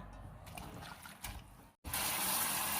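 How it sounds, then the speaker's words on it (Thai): Garlic mustard leaves are rinsed by hand in a basin of water, giving soft sloshing and trickling, then a brief pause and a louder, steady gush of pouring or running water close by. "เดี๋ยวล้างอีกน้ำหนึ่งก็ถือว่าใช้ได้แล้วค่ะ"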